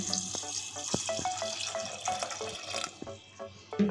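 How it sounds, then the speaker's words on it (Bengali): Water poured into a cooking pot for boiling dried peas for ghugni, a steady tap-like splashing stream with small clinks of the pot, close and moderately loud, briefly dropping off near the end. "এবার পরিমাণ মতো জল দিয়ে দিচ্ছি"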